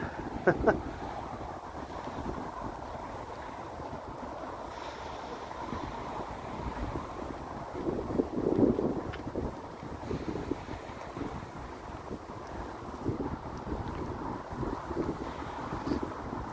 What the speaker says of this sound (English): the wind has calmed down quite a bit